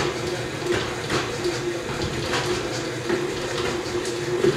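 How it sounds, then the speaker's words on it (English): 35% cream poured slowly into an egg yolk mixture for chocolate ice cream, making a continuous, soft liquid rushing and trickling that stays even and close throughout, with no break in the flow. "I'm just going to pour this in slowly."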